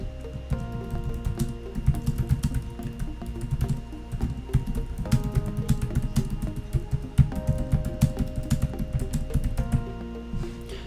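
Steady typing on a computer keyboard as a message response is entered, with rapid uneven clusters of crisp close key clicks and brief pauses between bursts.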